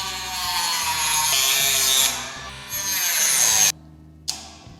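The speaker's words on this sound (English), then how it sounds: "I have my really little tiny Dremel to do the drilling here." A small handheld Dremel rotary tool drills into a wooden dowel, giving a loud, steady high-pitched whine that dips in pitch as it bites, then cuts off abruptly and briefly whirs again.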